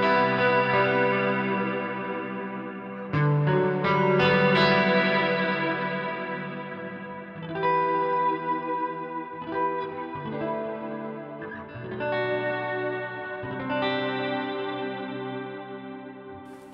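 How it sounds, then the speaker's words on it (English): Electric guitar played through a Line 6 POD Go with delay and reverb together: sustained chords and single notes ring out, with repeating echoes and a wide wash trailing each phrase. The guitar plays alone, with no talking. "This is like with the delay and reverb together."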